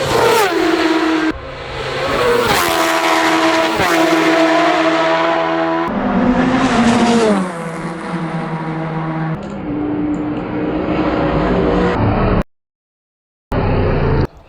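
Racing motorcycles scream past one after another at around 130 mph on the Isle of Man road course, pitch dropping as each passes, loud and close, with a brief silent gap near the end.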